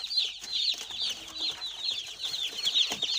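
Agric chicks in a brooding cage peep continuously in many high, overlapping chirps, fairly close and busy throughout with no talking.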